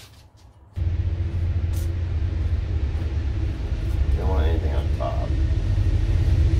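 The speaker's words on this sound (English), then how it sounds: "But that's the train." A deep, continuous low rumble swells in and builds steadily, like a train passing nearby, with a person speaking briefly over it.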